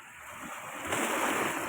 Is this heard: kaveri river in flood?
yes